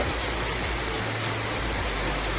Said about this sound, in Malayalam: മഴ തകർത്ത് പെയ്യുവാണ്.